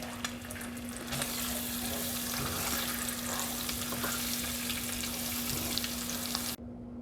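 Egg and garlic fry in a sauté pan with a loud, steady, close sizzle that crackles continuously before stopping abruptly near the end.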